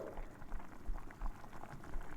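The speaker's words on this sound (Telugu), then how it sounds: "కొంచెం వాటర్ పోసుకొని మీడియం ఫ్లేమ్ మీదే వాటర్ అంతా దగ్గరగా ఎగిరిపోయేటట్టు" Dried shrimp, ridge gourd and egg curry simmers in a pan over a medium flame, giving a faint, steady bubbling with soft irregular pops and no voices.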